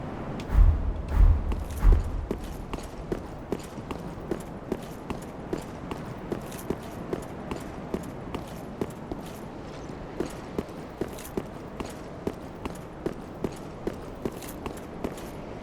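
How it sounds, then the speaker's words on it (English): Steady, evenly spaced footsteps in metallic armor echo through a Dark Souls III area, each step a sharp clanking thud, moderately close and walking at a regular pace over a low ambient hum. "I feel like I can hear footsteps, like metallic armored footsteps, but I'm not sure."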